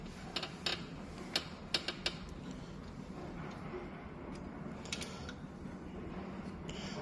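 A screw being loosened on a WP3S motor, a cluster of close, small clicking and ratcheting taps early on and a few more later, over a quiet background hum.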